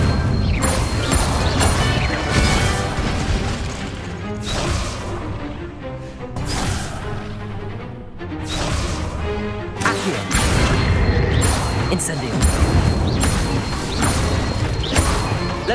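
Incendio fire spells cast over and over in Hogwarts Legacy make repeated whooshing, crackling bursts mixed with crashing impacts and busy game effects, with no gap in the sound.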